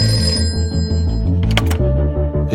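A telephone bell ringing at a Mumbai police station in the 1990s, a steady loud ring running through the whole stretch with no talk over it.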